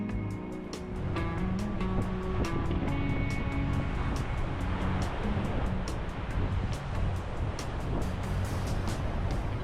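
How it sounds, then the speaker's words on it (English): Wind gusts and surf on the Gulf beach at Clearwater under gloomy skies roar in a continuous broadband wash, with regular faint clicks throughout. "the wind is picking up, the waves are picking up"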